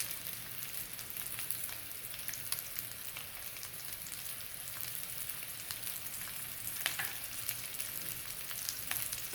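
Fish fillets of trout or tilapia seasoned with black pepper, paprika and garlic fry in a pan with a steady, dense sizzle and crackle, and occasional louder spits and stirs as they are tossed. No one speaks.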